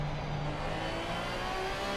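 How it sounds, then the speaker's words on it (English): Racing car engines drone steadily through a GT3 sim race at Bathurst, with a sustained high tire hum and a brief squeal riding over the continuous engine note. "You can hear the tires there."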